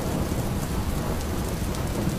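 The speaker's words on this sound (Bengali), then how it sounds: "সন্ধে নামতে না নামতেই হঠাৎ করে শুরু হয়ে গেল তুমুল কালবৈশাখী ঝড়।" A Kalbaishakhi thunderstorm pours heavy rain, a dense, steady roar of downpour on surfaces with a low rumble beneath, loud and continuous with no voices.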